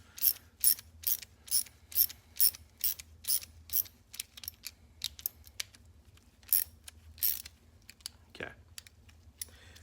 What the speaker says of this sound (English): Now we'll take the nut off